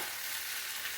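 Vegetables sauté in a pan for lunch with a steady, hissing sizzle. Close and fairly quiet, with no voices.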